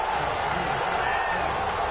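A disapproving stadium crowd in a football video game reacts to a penalty flag on third down, a steady dense roar of many voices that holds level and loud throughout.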